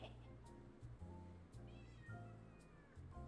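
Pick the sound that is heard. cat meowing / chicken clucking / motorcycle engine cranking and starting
cat meowing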